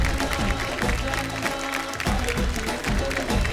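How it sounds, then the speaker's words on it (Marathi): Applause from the studio audience of a Marathi women's TV show, a steady crowd clapping under music, with a short dip midway before it picks up again. "एकदा जोरदार टाळ्या"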